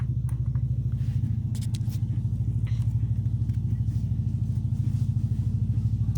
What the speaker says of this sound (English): It's my buddy riding his bike out.